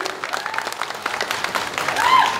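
Crowd applause at a Taiwanese campaign rally in Huwei, Yunlin, a dense steady patter of many hands clapping throughout, mixed with crowd noise and voices, swelling slightly toward the end.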